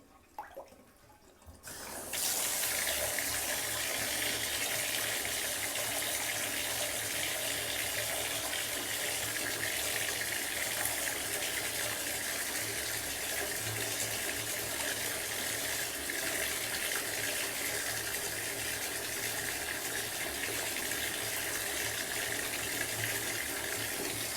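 Water pours and splashes into a full tub, a loud, steady rush that starts after a brief quiet moment and continues evenly to the end, with no voices.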